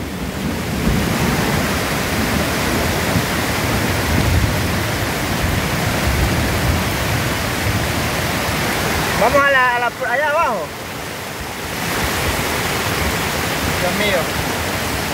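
A flooding river rushes loudly over stones in a steady, dense roar, with a short shouted voice partway through before the torrent swells back.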